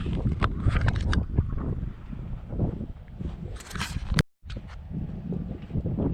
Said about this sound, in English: Wow, that wind is going.